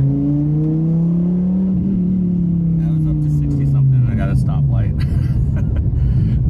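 A Dodge Viper supercar cruises in tall second gear at about 40 mph, its engine droning steadily with a falling pitch and road noise, while someone talks over it close by.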